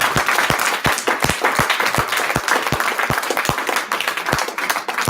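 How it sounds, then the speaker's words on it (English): A church congregation at a Sunday service claps hands together in a loud, close burst of applause, with distinct sharp claps standing out over the dense crowd clapping and no speech. "A hand clap for that."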